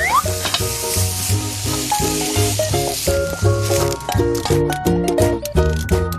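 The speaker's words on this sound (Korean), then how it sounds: "양파를 볶아주세요" Sliced onions stir-fry with zucchini in a hot pan, a steady close sizzle running under prominent background music throughout.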